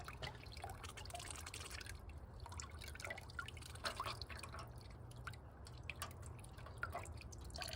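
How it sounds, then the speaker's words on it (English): Water runs in a quiet steady stream with soft irregular drips and splashes over it, close by and faint. "obviously the water is flowing"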